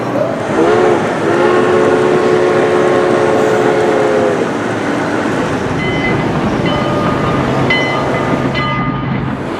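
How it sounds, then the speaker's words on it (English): Model railroad trains in a large museum diorama rumble steadily along with a continuous mechanical clatter, and a short whistle-like tone sounds early, with faint chiming tones later on. "The Great Train Story is a model railroad diorama."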